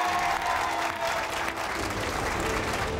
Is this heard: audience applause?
yes